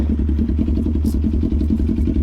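A motorcycle engine idles steadily up close, a loud, even low rumble with rapid rhythmic pulsing and a faint clatter.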